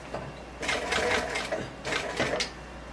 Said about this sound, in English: I'm all set up on my lightweight sewing machine.